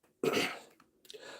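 A single short, sharp sneeze close by, followed by a faint breathy exhale, quiet overall.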